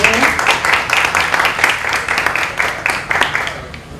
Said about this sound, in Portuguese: Por favor, palmas para o André.